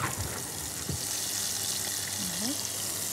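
Sardines dropped straight into hot oil give a steady, close sizzle of frying that fills the whole stretch, with a few faint clinks and no talking.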